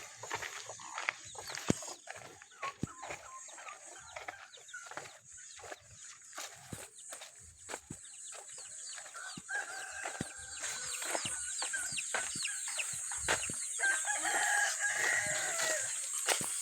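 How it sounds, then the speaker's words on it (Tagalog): Chickens cluck and chatter close by on a small farm, with a rooster crowing later, over a steady high-pitched hum and scattered clicks. "May manok."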